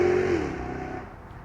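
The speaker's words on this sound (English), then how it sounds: "In the S here, you are more encouraged to attack the corners, which goes very well with the extra poke and that loud exhaust" A Jaguar XKR-S with a loud exhaust roars briefly as it accelerates, its deep engine note dropping in pitch and fading over about a second and a half.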